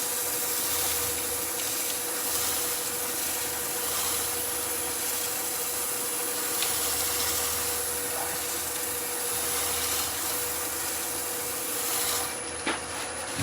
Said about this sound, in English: So a bit of burnishing with shavings.